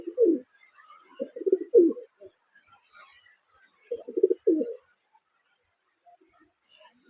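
Kaldoma pigeons coo inside a loft, two clear bursts of low, throaty cooing separated by a quiet gap, fairly close with faint chirps in the background.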